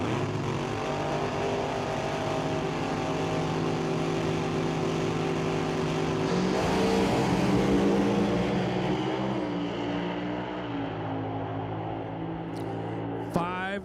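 A Top Alcohol dragster runs down the drag strip at an NHRA Northwest National Open Series race. Its sustained engine roar drones on from a distance, rises slightly midway and then fades.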